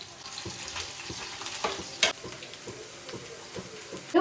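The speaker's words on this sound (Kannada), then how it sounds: "ಈಗ ಒಣಮೆಣಸಿನ್ಕಾಯಿಗಳನ್ನ ಆ್ಯಡ್ ಮಾಡ್ಕೊಳ್ತಾ ಇದ್ದೀನಿ." Dry red chillies crackle and sizzle in hot oil as a tempering for bisibelebath, a continuous close frying hiss broken by sharp pops and a few stirring clinks, with no voices.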